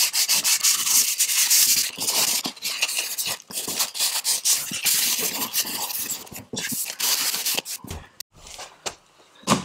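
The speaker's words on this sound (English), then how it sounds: "Use the edge of the sandpaper to get nice crack." Sandpaper rubbed by hand over a baseboard trim scarf joint, quick close scratchy strokes in an uneven rhythm that come and go, with short pauses between passes and no talk.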